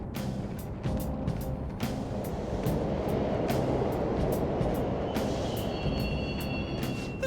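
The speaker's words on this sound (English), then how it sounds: "The trains are totally running!" Rumbling subway trains run through an underground station in the video game Persona 5 Royal, a steady low roar with clacking transients and a rising metallic whine near the end, no voices.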